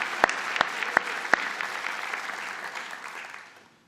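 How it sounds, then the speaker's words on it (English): Audience at a college convocation applauds the graduating class, with a few sharp claps near the mic over a broad crowd of clapping that tapers off and fades out. "perhaps you join me in a round of applause to the graduating class of 2018"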